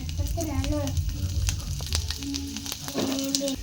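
Garlic sizzling in butter in a frying pan, a steady crackling hiss with scattered pops, close and continuous, while a voice is heard faintly in the background.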